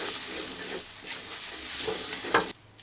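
A mixture for dhoka, a Bengali lentil cake, is stirred in a hot frying pan, giving a steady close sizzle with scraping strokes and no talk. The sound stops abruptly near the end.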